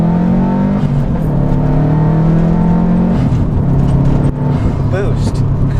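Manual transmission car engine droning loud and steady as it accelerates, with pitch climbing and dropping at gear shifts.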